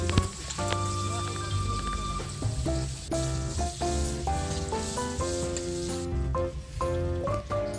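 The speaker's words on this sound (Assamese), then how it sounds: "এইখিনি ভালকৈ ৰঙচুৱাকৈ ভাজি লম।" Bay leaf, a dried chilli and onion fry in oil in a wok over a firewood fire, with a steady crackling sizzle. A faint background tone runs along under it.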